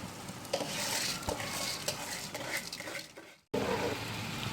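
Basmati rice stirred through boiling water in a cooking pot for prawn biryani, a steady close scraping and bubbling churn with a brief break near the end before it resumes.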